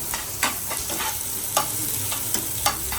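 Onion frying in a pan for paneer tikka masala makes a steady close sizzle, punctuated by a few sharp clinks and scrapes from stirring, with no voices.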